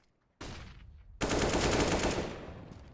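Counter-Strike gunfire from AK rifles and Desert Eagle pistols: a short burst of shots followed by a longer sustained rapid volley, loud and close with no talk over it.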